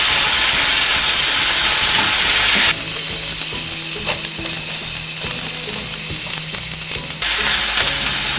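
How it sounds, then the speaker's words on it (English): Onion mixture with ginger garlic paste sautéing in a pan for malai kofta, a steady close sizzle and hiss with occasional stirring scrapes, louder at the start and end and softer in the middle. "We just need to saute this mixture. We don't need to overcook the onion."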